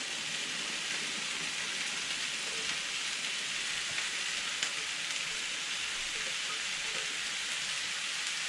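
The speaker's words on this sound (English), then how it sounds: "I'm going to add the garlic in now" Garlic sizzles in a hot pan for a bolognese, a steady, even frying hiss at moderate volume with no talking.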